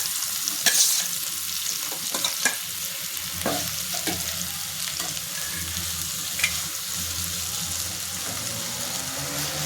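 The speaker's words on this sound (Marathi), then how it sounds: "जे तोंडलीला आपण मसाले लावून घेतले ते तोंडली टाकून आपण फ्राय करून घेणार आहे" Spice-coated ivy gourd (tondli) sizzles in hot oil with asafoetida, a dense continuous frying hiss with intermittent scraping and clatter of stirring, loud and close throughout.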